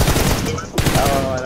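Shotgun fire in the mobile battle royale BGMI, two loud, close blasts in quick succession with sharp attacks and ringing tails, over the game's background sound.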